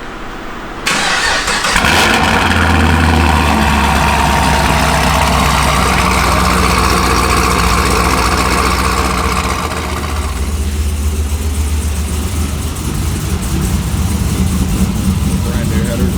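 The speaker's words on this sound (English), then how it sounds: "Gonna get a little first start up on this SS now that it's done." A cammed 2014 Chevy SS V8 with brand new headers cranks and catches, then settles into a loud, choppy idle that lopes unevenly and eases slightly toward the end, close by.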